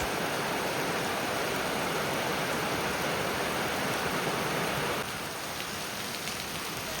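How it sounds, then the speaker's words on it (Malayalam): Heavy rain pours steadily on a rainy day, a dense, loud, continuous hiss of drops on surfaces that eases slightly near the end, with no voices. "ഭയങ്കര മഴയായിരുന്നു."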